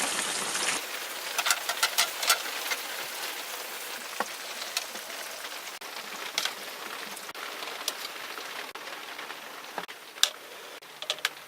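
Rain falling outside during breakfast cooking, a soft steady patter with scattered sharp drips and ticks, faint and continuous with no talk.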